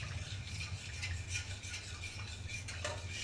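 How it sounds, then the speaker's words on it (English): Pasticcio sauce stirred in a pot, giving a steady soft scraping and rubbing of a utensil against the pot under a low hum, with a few brief clinks, close and continuous. "And we go back, we stir."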